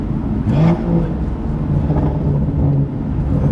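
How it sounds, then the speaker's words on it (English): A BMW M2 with a full titanium iPE exhaust revs and burbles with a throaty, continuous rumble, loud and close, with engine pitch rising briefly near the start. "Full titanium exhaust"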